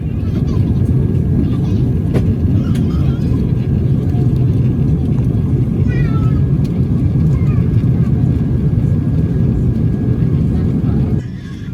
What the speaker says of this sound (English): please sit back and enjoy a snowy descent into Heathrow.